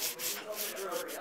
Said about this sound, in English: Okay, I'm sanding now.